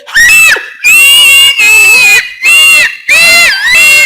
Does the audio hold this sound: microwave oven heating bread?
no